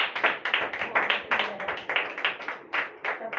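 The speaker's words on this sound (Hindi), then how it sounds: "तालियां तालियां" An audience at a Hindi poetry gathering claps in quick, fairly even bursts, a close and moderately loud patter of hands with no voices over it.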